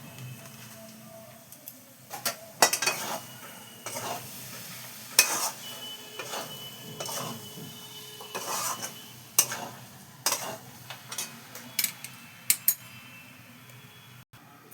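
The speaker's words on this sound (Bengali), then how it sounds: "দেখো আলুর দম মশলা দিয়ে আমার কষানো হয়ে গেছে।" A spice paste with aloo dum masala is stir-fried in a pan for a green peas dal, a soft steady sizzle broken by repeated sharp scrapes and clinks of a spatula against the pan.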